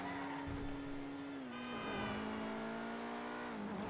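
Obey 10F sports car engine driving in GTA 5, a steady loud engine drone holding pitch, dipping briefly and climbing again as it shifts, continuous throughout with no talk.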